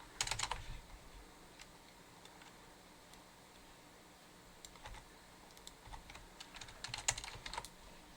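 Computer keyboard clatters as code is typed during a programming lecture, bursts of quick keystrokes at the start and near the end with sparse taps between, fairly faint over a low room hiss, no talking.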